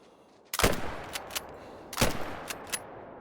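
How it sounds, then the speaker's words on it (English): Two sharp rifle shots ring out about a second and a half apart in the Call of the Wild hunting game, fired from the hip at wild boar with a .257 Magnum, each followed by short echoing tails and faint later cracks. "We're just hip shooting at him, basically."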